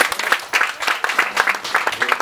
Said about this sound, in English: Let's give them mothers a hand clap of praise.